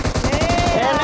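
Rapid automatic gunfire in PUBG Mobile, a loud, close, fast burst of evenly spaced shots running through the whole moment.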